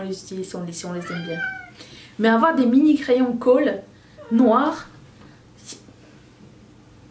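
A house cat meows several times, short rising calls close to the microphone, interleaved with someone speaking French nearby in a quiet indoor room.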